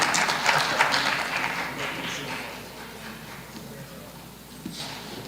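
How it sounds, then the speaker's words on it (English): An audience at an award event applauds, a broad dense wash of clapping that is strongest at first and then gradually thins and fades. "Give yourselves a big round of applause"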